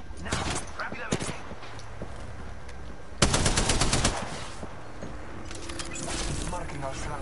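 Machine gun fire in a video game battle royale match, rapid crackling bursts at close range with a louder sustained burst midway, under continuous game noise and a talking player.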